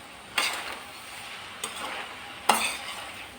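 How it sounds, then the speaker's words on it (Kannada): Soya chunks masala with coriander stirred in a pan, giving three short scraping stir strokes over a faint, steady frying sizzle, close by, with no talking. "ಕೊತ್ತಂಬರಿ ಹಾಕಿದ್ಮೇಲೆ ಒಂದು ಸ್ವಲ್ಪ ಹುರ್ಕೊಳ್ಳೋಣ"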